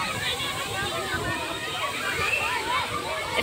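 Muddy, murky water sloshes and churns at Jalbire waterfall, a steady close wash of water noise with voices and crowd chatter mixed in.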